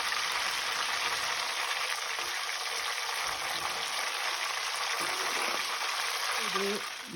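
Nendran banana chips frying in hot oil give a steady, broadband sizzle that fills the whole clip, with faint low bubbling and a few soft clinks near the end.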